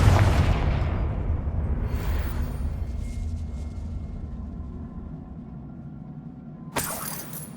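Confringo explosion spell in the Hogwarts Legacy video game: a heavy boom opens, then a long rumbling decay, and a sharp shattering crack near the end.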